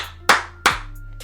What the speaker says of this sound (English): 3 claps